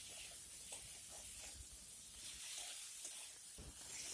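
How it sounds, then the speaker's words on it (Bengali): Pointed gourd frying in oil with salt and turmeric, a soft continuous sizzling hiss with faint irregular crackles, quiet and steady with no voices. "এরপর এর মধ্যে লবণ হলুদ দিয়ে পটলগুলিকেও ভেজে নিতে হবে।"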